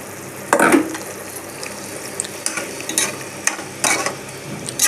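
Soaked rice is tipped into a hot one-pot chicken biryani. It gives a close series of wet scrapes and splashy rustles in uneven bursts over a low simmering hiss, with no voices.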